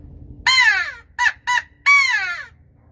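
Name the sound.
crow call (hunting game call) imitating a crow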